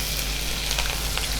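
Mustard seeds and green chili fry in premium refined sunflower oil, giving a loud, dense sizzle with faint popping that stays even through the short moment.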